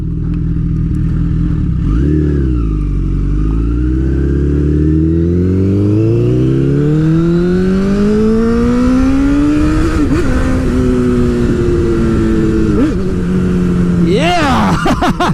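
A Honda CBR1000rr motorcycle engine revs and accelerates loudly up through the gears, pitch climbing with brief dips between shifts, recorded close up on the bike.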